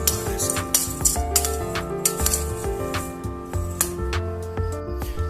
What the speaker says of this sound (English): Let's mix everything up